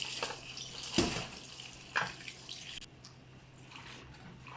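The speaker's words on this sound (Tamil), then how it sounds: "இந்த பாத்திரம் முழுசும் வச்சுக்கிட்டு நல்லா முக்கி அலசி எடுங்க." Water sloshes and splashes in a few distinct dunks, with dripping and trickling between, close by and moderately loud.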